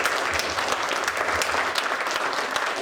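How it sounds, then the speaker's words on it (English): Audience at a youth substance-use storytelling event gives the panelists a steady round of applause, dense clapping sustained throughout at close range without talk. "can I do a quick second to give all of our panelists a quick round of applause"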